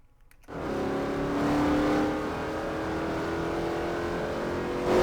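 A car in the Garry's Mod sandbox game pulls away after a brief silence, its engine rising into a steady loud drone with a revving swell near the end.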